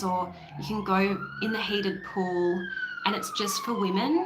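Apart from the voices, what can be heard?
emergency vehicle siren passing in busy area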